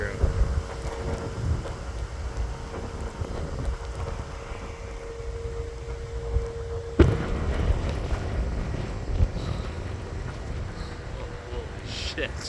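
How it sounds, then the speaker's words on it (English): Strong wind gusting through a lake effect blizzard with blowing snow, a steady roaring rush that swells sharply around the middle and stays loud and close, with people talking over it. "big gust coming through"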